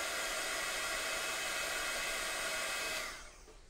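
A hair dryer blows steadily on damp paint in an art project, a loud continuous whirr that runs on alone before cutting off in the last half second.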